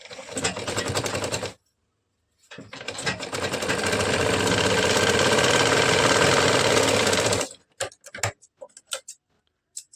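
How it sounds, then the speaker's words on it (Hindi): A sewing machine stitches a katori blouse in close, loud bursts: a short run, a pause, then a long steady run of rapid needle clatter, followed by scattered clicks and taps. "अब इसको एक पक्की सिलाई लगा लेते हैं।"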